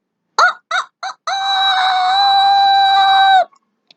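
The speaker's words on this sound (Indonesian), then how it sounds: "Rooster says, cock-a-doodle-doo." A single rooster crows loud and close, opening with three short clipped bursts before one long sustained, strident cock-a-doodle-doo call that holds steady and then cuts off, with silence around it.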